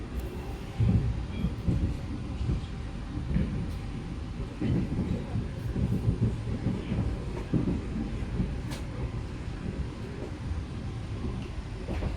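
Taksaka New Generation passenger train running on the double track between Bekasi and Jatinegara, heard from inside as a steady low rumble with intermittent thumps and rattles, no talk.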